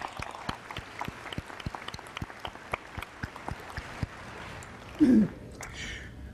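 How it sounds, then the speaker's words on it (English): Scattered clapping from the audience at a university commencement, a dozen or so distinct claps spread unevenly across a few seconds, fairly sparse and thin rather than a full ovation, ending with a brief noisy bump. "Please give them a round of applause."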